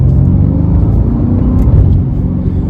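A Mercedes C63 AMG engine rumbles loudly from inside the cabin, its pitch dropping slightly partway through as the revs settle lower on a downshift, on country lanes in Poland.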